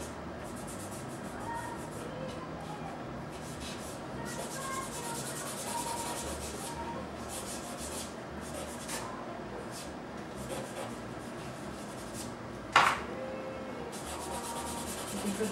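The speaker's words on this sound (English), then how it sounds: "Now I want to just get it a little bit darker." Vine charcoal rubs steadily across paper while a portrait is shaded darker at the cheek, a soft continuous scratchy stroking close up, with one sharper tap near the end.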